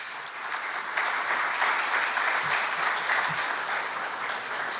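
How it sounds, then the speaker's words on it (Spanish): A lecture audience claps warmly to welcome an engineer speaking on Lima and Callao's Metro Line 2, steady dense applause holding at an even level for about five seconds, with no voices above it. "Vamos a recibir entonces con un cálido aplauso al ingeniero Robert López Pumayali."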